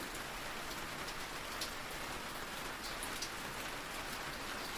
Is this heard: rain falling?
yes